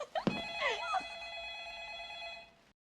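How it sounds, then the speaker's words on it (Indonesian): A house telephone rings in a horror film scene, a bright bell-like tone sustaining for a couple of seconds and fading, with a brief voice or sound effect at the start. "Namun tiba-tiba telepon di rumah itu berdering."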